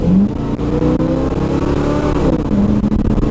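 A slammed Chevrolet C10 square body truck accelerating, its engine droning loud and close with a steady low rumble that rises in pitch as it pulls away, then revs again near the end.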